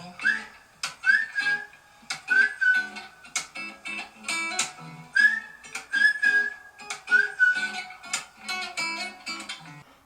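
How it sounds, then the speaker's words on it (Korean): A whistled melody of short held notes in phrases, mixed with frequent clicks and ticking sounds throughout. "휘파람."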